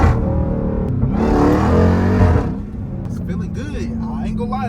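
Supercharged Jeep Trackhawk engine on lowered springs revving hard, a rising roar with a faint whine held for a couple of seconds before settling back to a lower idle rumble, with a voice speaking over it.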